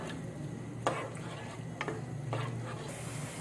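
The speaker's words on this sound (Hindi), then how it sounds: "प्याज को थोड़ा फ्राई कर लेंगे तेल के साथ।" Onions fry in oil for keema matar, a low steady sizzle broken by three brief scraping stirs of a spoon against the pan.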